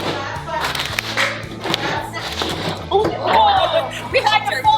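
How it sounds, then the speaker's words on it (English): Hands clapping in rhythm at an outdoor STEAM park event, sharp repeated claps over a steady thumping beat, with people talking and calling out throughout. "Boom, clap, clap."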